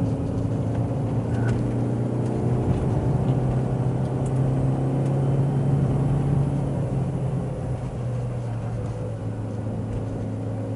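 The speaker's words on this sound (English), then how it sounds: "Just downshift, blip the throttle." Manual car with its driver heel-and-toe downshifting and blipping the throttle into a tightening corner: a steady, loud in-cabin engine drone holding a low tone throughout, with a slight rise mid-clip and easing toward the end.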